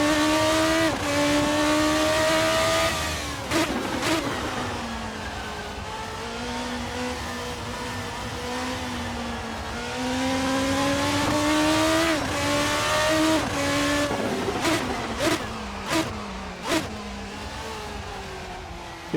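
A Praga R1 V8 race car laps the Tsukuba circuit, its engine note loud and close throughout, rising and falling with gear changes and throttle lifts, with brief sharp transients near the end.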